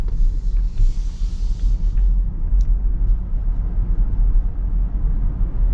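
A 2025 Volvo EX90 electric car coasting while driving, heard from the cabin as a steady low road and tire rumble with no voices.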